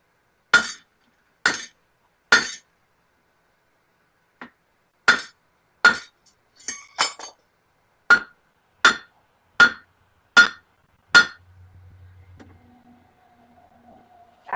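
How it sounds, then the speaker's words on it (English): Blacksmith tongs clinking on metal while forge welding an axe bit, about a dozen sharp, ringing metallic strikes spaced roughly a second apart, loud and close, followed by a faint low hum and whine at the end. "We're gonna use these tongs."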